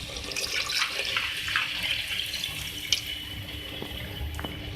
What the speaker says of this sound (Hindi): अच्छा ये देखिए अब मैं इसमें ऐड करूँगी पानी